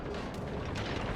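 Naval guns firing from the ship Bayard in World of Warships: Legends, a short rumbling burst of heavy booms with a dense low roar, loud and close.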